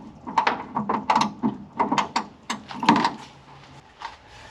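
Ratchet wrench clicking while door bolts are removed from a Ford Bronco II, a close, fairly quiet run of irregular short bursts of metallic clicks with brief gaps between them.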